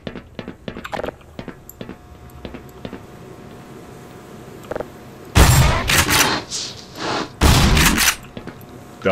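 Shotgun fire in the Black Mesa video game: two loud, heavy blasts, each followed by a short rumbling tail, after several seconds of quieter clicks and small taps.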